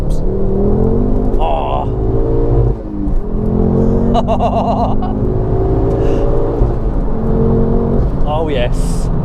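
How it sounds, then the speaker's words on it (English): A Mountune MR375 Ford Focus RS Mk2 revs hard in second gear, with a loud droning exhaust and sharp crackling pops as the throttle lifts, while people talk inside the car. "So every time you come off the exhaust, you get this sort of ferocious pop."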